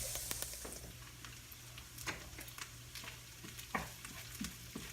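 Garlic dropped into onions frying in a pan for collard greens, soft sizzling under repeated spoon scrapes and taps, fairly quiet and close with a low steady hum beneath.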